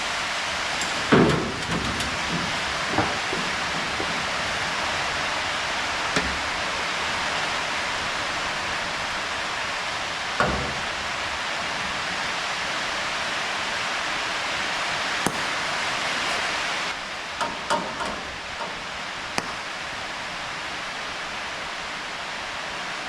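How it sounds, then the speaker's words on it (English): A repair panel being welded into a car body gives a continuous loud hiss with scattered sharp pops and crackles, stopping briefly near the end and then resuming, with no talking. "and then I'll just weld the whole thing out"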